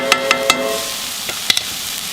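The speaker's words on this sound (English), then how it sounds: "we're going to get this out and start browning our ground beef" Ground beef sizzles as it browns in a pan, a steady frying hiss broken by several sharp scraping taps of a utensil stirring the meat.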